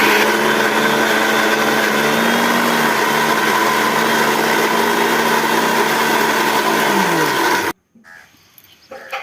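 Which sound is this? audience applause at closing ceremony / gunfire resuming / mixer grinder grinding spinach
mixer grinder grinding spinach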